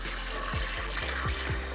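Running water from a kitchen tap pours over hands being wetted while making homemade salmon dog treats, a close steady splashing stream with rhythmic dips as the hands move under it, no talking.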